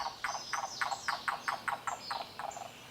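Recorded call of a western yellow-billed cuckoo: a rapid series of about a dozen evenly spaced, clucking notes over roughly three seconds, fairly close and clear against a faint background hiss, with no talk.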